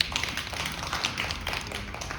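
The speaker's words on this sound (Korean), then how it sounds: "박수 부탁드릴게요" An audience at a disability-awareness concert claps for a few seconds, with scattered, fairly quiet hand claps heard from a modest distance.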